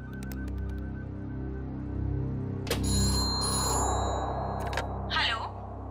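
A phone rings with a repeating electronic tone after a number is dialed, over a room background, with some brief voices and a rattle near the end.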